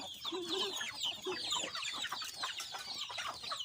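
A crowd of Basilan breed hens clucks and chatters nonstop at close range, many birds calling over one another without pause.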